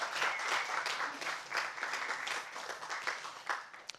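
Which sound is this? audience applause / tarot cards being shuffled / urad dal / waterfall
audience applause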